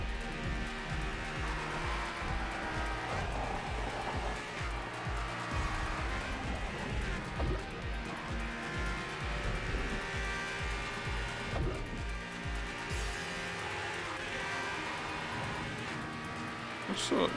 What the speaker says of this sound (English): the engine of this car sounds quite weird